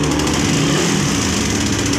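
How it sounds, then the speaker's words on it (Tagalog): Loud, steady mechanical drone of a Raider 150 motorcycle engine with a faulty tensioner and about 11,924 km on it, running continuously up close with a noisy rattling clatter and no talking. "So ganun na yung tunog ng makina niya, no?"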